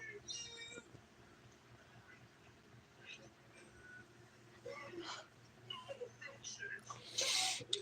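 A cartoon cat from a Billy & Mandy episode meows a few times, thin and fairly faint beneath a person talking over the show.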